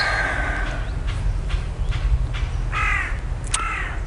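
A crow caws repeatedly over a steady low outdoor rumble in a Brocéliande forest, several hoarse calls spaced out, mid-distance, with fainter birdsong mixed in.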